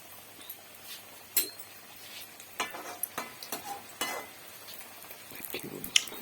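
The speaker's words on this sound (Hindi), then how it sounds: "ठेकुआ को डालूंगी छानने के लिए।" Thekua frying in hot ghee, a soft steady sizzle with occasional clinks and scrapes of a utensil against the pan, close and fairly quiet with no speech.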